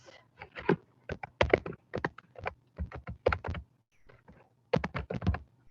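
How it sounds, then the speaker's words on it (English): Someone types on a computer keyboard nearby, with quick irregular bursts of key taps broken by short pauses; no talking. "I am not a fast typer, guys."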